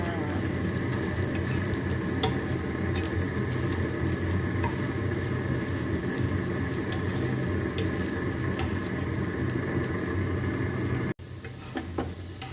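Thai pork sausage with black pepper, dried chili and garlic stir-fries in a hot pan, giving a loud, continuous close sizzle with occasional stirring clicks, briefly cutting out near the end before resuming.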